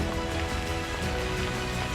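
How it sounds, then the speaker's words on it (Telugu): Rain falls steadily in Cappadocia, Turkey, a dense, even hiss of drops on surfaces close by, continuous and fairly loud, with no voices. "వర్షం ఎక్కువైపోయిందండి, అందుకే గొడి కట్టుకున్నాను నేను"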